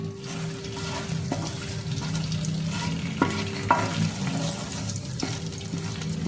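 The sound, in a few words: frying stone flower and whole spices lightly in oil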